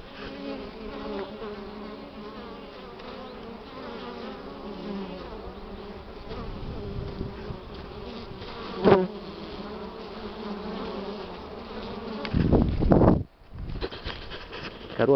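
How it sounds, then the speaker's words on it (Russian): Many honey bees fly around a hive entrance on a mild spring day, many carrying pollen loads; a steady, continuous buzzing drone fills the clip, with a close rustle near the end. "А сегодня, гляжу, уже много пчел идут с обножкой"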